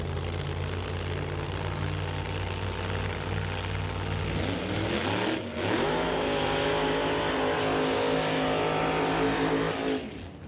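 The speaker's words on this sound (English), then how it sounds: "Side-by-side smoky burnouts, and once again the 2 supercharged combinations" Two supercharged Pro Mod drag cars do side-by-side smoky burnouts at a West Coast Pro Mod race, a continuous loud engine roar that holds steady, then surges with a sharp rev change midway before dropping off at the end.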